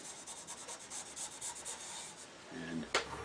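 Abrasive compound is rubbed onto turned wood for a mushroom box in quick, close scratchy strokes, followed by a short louder knock near the end.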